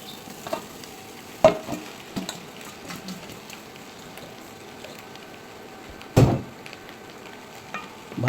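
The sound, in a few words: rice being poured into pan and stirred, frying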